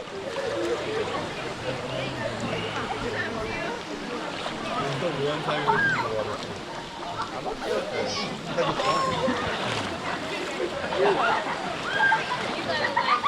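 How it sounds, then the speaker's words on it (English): Water splashing and sloshing as mud is flushed off an off-road buggy at a park in the Dominican Republic, continuous and fairly loud, with people talking over it throughout. "Flush out the mud."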